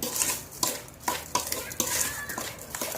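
Roasted rice stirred in a pan with a utensil, a quick run of scraping strokes against the metal, close and fairly loud, with a little faint sizzling.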